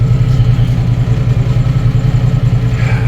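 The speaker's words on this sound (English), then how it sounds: "that's the exhaust leak that I was hearing" A 1990 Jeep YJ 4.2L engine with an exhaust leak idles steadily up close, a low rumbling drone with a rough, ticking pulse running through it, no voices.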